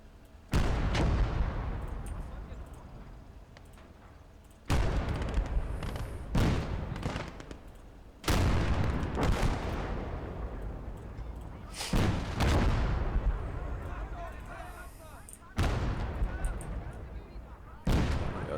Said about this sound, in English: Artillery is now opening up.